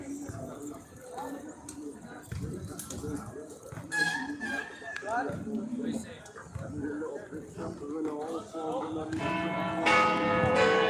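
Church bells ring out in an English town, clanging and gaining loudness toward the end, mixed with cooing pigeons and people talking nearby.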